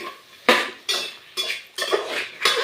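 A spoon scrapes and knocks around a metal pot, mixing tomatoes, peas, garlic and peanuts for dhaba-style village khichdi, in about five loud, evenly spaced strokes up close.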